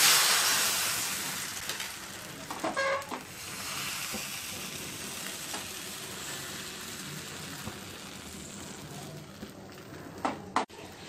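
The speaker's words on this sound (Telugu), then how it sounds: "స్టవ్ మీద ప్యాన్ పెట్టుకొని వేడైన తర్వాత కలిపి పెట్టుకున్నటువంటి పిండిని వేసుకోవాలి" Neer dosa batter is poured onto a hot pan and spreads with a soft, steady sizzle and hiss. A few brief scrapes and clinks rise above it near the start and end, and no one talks.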